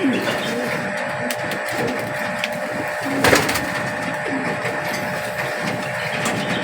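A racing pigeon coos softly in low repeated murmurs at close range over a steady background hum, with one sharp knock partway through.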